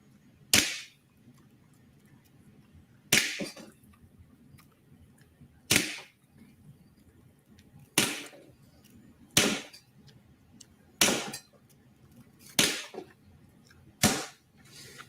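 A personal security gun firing rubber balls, eight sharp, separate pops spaced a couple of seconds apart, close and fairly loud against a quiet background.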